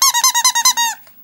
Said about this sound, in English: 3PO only squeaks in the one place.